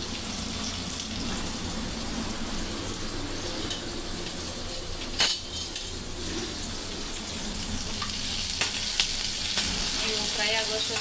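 Food frying in a pan on a gas stove for chicken or egg masala, a loud, continuous sizzle throughout with occasional sharp utensil clinks.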